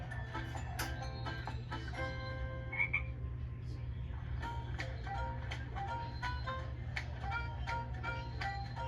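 Cartoon frogs croak in a frog bog, a dense chorus of repeated ribbits and chirpy calls layered over one another alongside a steady low drone and bright tonal notes, continuing throughout without speech.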